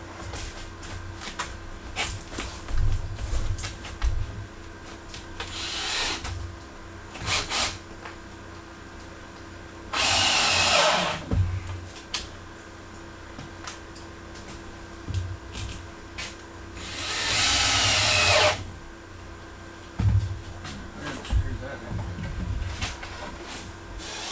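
A power drill drives screws into wood during a cabin renovation, with two longer loud whirring bursts and shorter spins amid scattered knocks and handling noises, close by.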